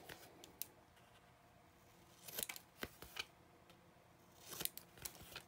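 Scissors snip through chipboard corners, several quiet close crisp cuts spaced irregularly in a calm room.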